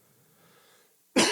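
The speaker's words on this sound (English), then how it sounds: "I just had to cough again." A single sharp, close cough bursts out abruptly after a near-silent stretch in which only faint background murmur is present.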